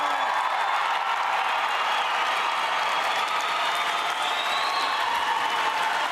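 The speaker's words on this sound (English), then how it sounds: "Let's hear another big round of applause." Graduation commencement audience for a university class of 2023 applauds in a big, sustained wash of clapping with some cheering, steady and broad throughout without a break.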